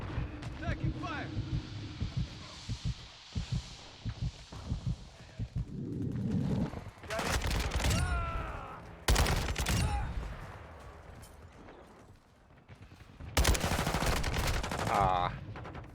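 Bursts of automatic gunfire and single shots crack out in the Modern Warfare 2 video game, arriving in loud clusters separated by quieter stretches of game ambience and voices.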